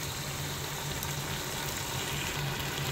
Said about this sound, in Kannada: ಚಿಲ್ಲಿ ಪೇಸ್ಟ್ ಹಾಕಿದ್ಮೇಲೆ 1 ನಿಮಿಷದವರೆಗೂ ಅದನ್ನು ರೋಸ್ಟ್ ಆಗಕ್ಕೆ ಬಿಡಿ